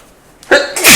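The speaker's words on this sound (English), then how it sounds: "I'm getting a sneeze in per episode." A single sharp sneeze bursts out after a moment of near silence, loud and close, with a quick breath-in followed by the explosive release.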